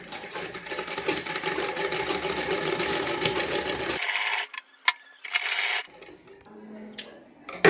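Sewing machine stitching a strip along a plain frock's armhole, running steadily and loudly for about four seconds, then stopping and restarting in short bursts with pauses between.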